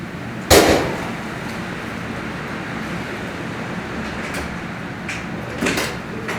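A sharp sudden thud of a door blown open by a loud wind gust at night, over a steady rushing background, followed by quieter knocks later.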